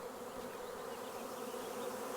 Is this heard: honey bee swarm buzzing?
yes